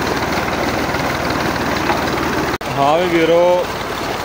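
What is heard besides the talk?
tractor engine running water bore pump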